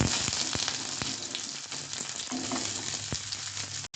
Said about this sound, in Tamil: இப்போ குருமா வைக்கிறதுக்கு நான் கடாயில் கடலை எண்ணெய் ஊற்றிருக்கேன். இப்போ இந்த வெஜிடபிள்ஸ் எல்லாத்தையும் எடுத்து இதில் சேர்த்துக்கலாம்.